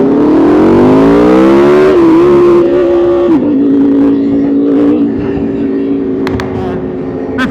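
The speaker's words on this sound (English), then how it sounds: "This Z06 sounds crazy with a big old cam. It is chopping." A Corvette Z06 fitted with a big cam and running on E85 revs up close and loud, its engine note climbing steadily before settling into a choppy, lumpy drone.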